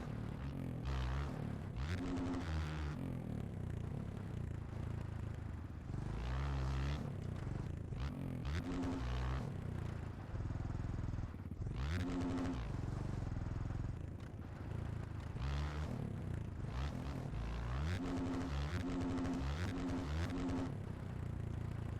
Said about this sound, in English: I'll just stay quiet for a second and just let you listen to the bike.